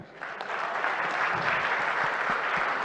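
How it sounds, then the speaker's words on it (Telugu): An audience applauds at a Telugu film celebration event for Mana ShankaraVaraPrasad Garu, sustained dense clapping from a large crowd that swells in after a brief start. "ఈ సినిమా క్లాప్స్ కొట్టరా"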